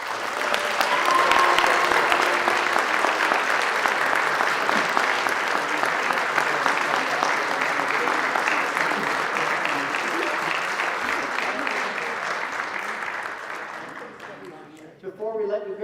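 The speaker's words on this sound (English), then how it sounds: "Please join us in a round of applause for the class of 2021." A theater and thespian induction audience applauds the class of 2021 in sustained, dense clapping that holds steady and then thins out near the end, with a voice returning briefly at the close.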